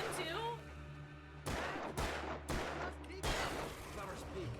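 Gunfire in Alan Wake Remastered, four sharp bursts of shots spaced across the moment over a steady game ambience and low hum, with a voice talking faintly underneath.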